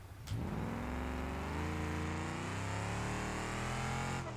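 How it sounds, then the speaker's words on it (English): A van in BeamNG revs up with a sharp, sporty exhaust note from a sports exhaust, pitch climbing steadily after a brief start, loud and close throughout. "Oh, I caught the exhaust. That's why it sounds like a sports car."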